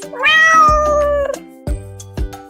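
A domestic cat meows loudly and close by, one long drawn-out wavering call followed by two shorter, lower chirps, with no voice over it.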